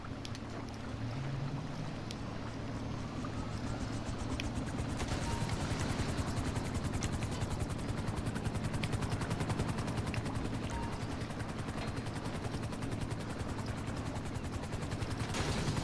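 A helicopter in GTA Online sends out a loud, continuous rotor thrum with rapid chopping pulses, steady for the whole stretch with no talking.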